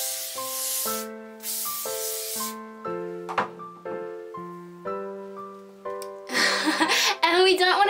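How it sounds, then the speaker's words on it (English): Hairspray sprayed onto hair from underneath with the head tilted forward, several short hissing bursts over steady background music, with a few more bursts near the end. "I'm going to hairspray it from underneath just to make it stay really big all day"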